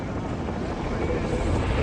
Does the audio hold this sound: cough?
no